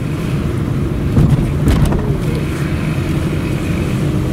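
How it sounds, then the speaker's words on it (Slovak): Peugeot 206 car driving with a rattling exhaust, a close low engine drone with a brief louder rattling burst midway, no talk. "Čiže auto vyzerá, že OK, akože ide. Cinga výfuk, ale ináč OK."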